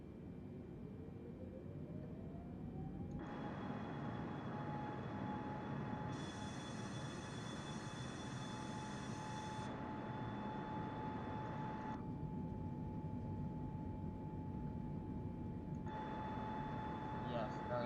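A Microsoft Flight Simulator airliner spools up for takeoff, a steady engine roar with a rising whine building and holding over several seconds, with a voice talking over it.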